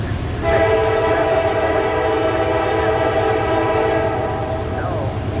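A CSX freight train passes close by on the W&A line near a loaded coal train waiting in a siding. A loud, sustained multi-tone horn blast rides over the rumble of the rolling cars, with a brief voice near the end.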